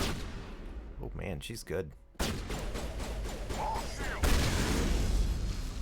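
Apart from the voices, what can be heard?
shotgun fire in the video game Mass Effect Legendary Edition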